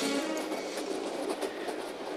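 A fast train running without a driver rolls along with a steady dense rumble and rail clatter, loud and continuous, with no voices.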